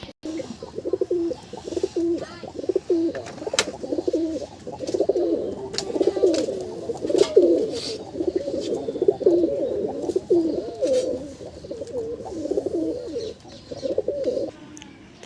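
Several Murshidabadi Giribaz pigeons coo close by in a steady, overlapping stream of low, throaty calls, with a few faint chirps above and no voices.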